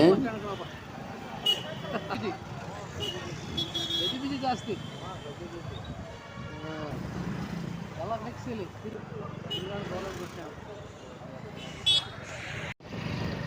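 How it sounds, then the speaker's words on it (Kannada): Busy traffic at the Hosur bus stand in Tamil Nadu, a steady wash of engines, passing vehicles and crowd babble with scattered horn-like tones and nearby voices talking throughout. "ಹೊಸೂರು ಬಸ್ ಸ್ಟ್ಯಾಂಡ್ ಇದು ಬಸ್ ಸ್ಟ್ಯಾಂಡಲ್ಲಿ"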